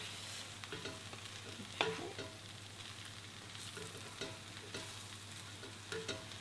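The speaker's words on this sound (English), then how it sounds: "Stir that in" Peppers being stirred into a sizzling mushroom and pepper one-pot, with scraping utensil strokes and soft clatter over a steady frying hiss, close and moderately quiet, with one sharper knock partway through.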